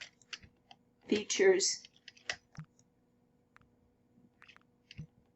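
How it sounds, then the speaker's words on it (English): A computer keyboard space bar is clicked several times, giving sharp, sparse taps spread across the clip, with a brief burst of speech between them. "And I'm clicking the space bar"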